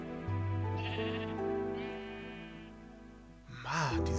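Minecraft sheep bleat twice in close succession, each a drawn-out wavering baa, and then a brief higher animal call cuts in at the end. Both are heard near and alone with no speech.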